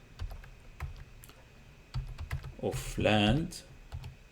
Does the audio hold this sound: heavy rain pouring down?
no